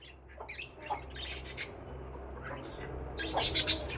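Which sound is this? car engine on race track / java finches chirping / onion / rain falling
java finches chirping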